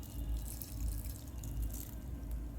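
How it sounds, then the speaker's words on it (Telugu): Water trickles and splashes steadily into a mixer jar holding soaked rice and urad dal for dosa batter, a close, continuous pour with faint dripping over a low rumble. "కొంచెం వాటర్ పోసుకుందాము"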